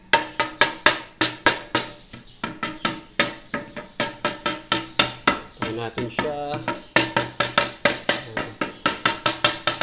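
A wooden stick taps across newly laid floor tiles in a dirty kitchen, checking for hollow spots: a steady run of sharp, close knocks fills the whole stretch, with brief talk in between.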